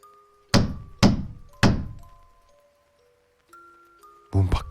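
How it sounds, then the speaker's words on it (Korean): Three heavy, dull knocks on a door ring out close and loud in a steady rhythm, each decaying slowly, set over soft sustained music tones, followed by a thumping burst near the end. "그것은 문을 두드리는 소리였습니다."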